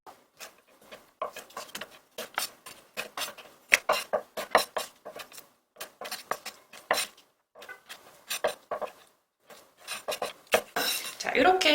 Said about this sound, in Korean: 나머지 청경채도 썰어줄게요.